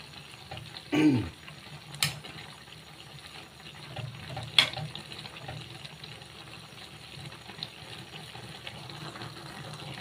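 Bitter gourd leaves cook in a pan with a soft, steady sizzle, broken by a few sharp clatters of a utensil stirring against the pan.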